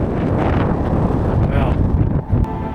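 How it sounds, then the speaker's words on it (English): Heavy wind buffets the microphone outdoors near Víti crater in Iceland with a loud, low rumbling roar throughout, briefly easing near the end. "It is super windy."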